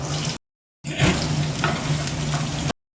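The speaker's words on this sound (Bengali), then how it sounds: "পেঁয়াজটা লাল লাল করে ভেজে নেবো" Onions frying in hot oil, a close, dense sizzle with a low steady hum beneath, cut by abrupt silent gaps at the start and end, with no talking.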